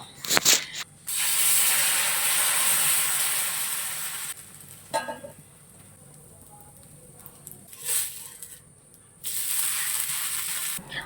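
Loud sizzling hiss from batter in a covered pan that drops away abruptly, leaving quiet clinks and rattles, then the sizzle surges back strongly near the end.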